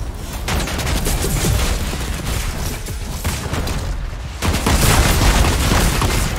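Gunfire in the Fortnite video game, rapid bursts of shots crackling close and loud, growing denser toward the end, with no talking over it.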